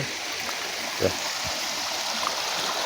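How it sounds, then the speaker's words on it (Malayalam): Floodwater flows over a bridge at a swollen river in a continuous, even rushing wash, steady and fairly close, with no voices over it. "പാലത്തിൻ്റെ മേലിൽ കൂടെയാണ് വെള്ളം കൊഴുകുന്നത്"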